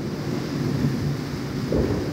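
Severe thunderstorm on Florida's east Space Coast, a continuous low roar of wind and rain with deep rumbling swells, steady and close to the microphone.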